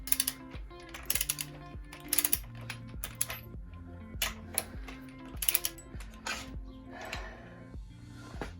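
A ratchet works a 22 mm nut on an Aprilia RS 125 motorcycle, giving a rapid series of metallic clicking strokes in repeated bursts, close and clear.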